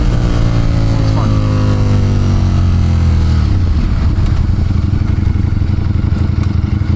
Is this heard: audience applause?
no